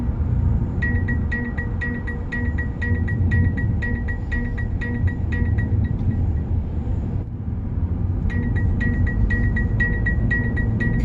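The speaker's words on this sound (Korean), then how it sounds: "운전석에서 벨트를 착용하지 않으면 이런 소리가 납니다." A steady, rapid electronic seatbelt warning chime from a Mercedes-Benz CLA 250 4MATIC, sounding because the driver's belt is unfastened, repeats in bursts over a loud, constant rumble of road and cabin noise, pausing briefly before resuming.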